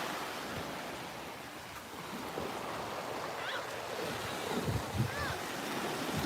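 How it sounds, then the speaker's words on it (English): Surf washing onto a Florida beach on a chilly evening, a steady broadband wash of breaking waves with wind buffeting the microphone and a slight swell in loudness near the end. "We're just gonna take a little walkie walk on a beachy beach."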